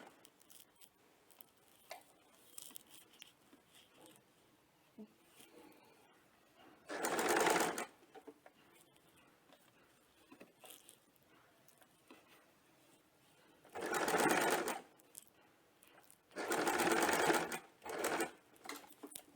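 Sewing machine stitching lace onto a gathered frill on a round neckline, three loud bursts of rapid whirring stitches separated by quiet handling and fabric rustles.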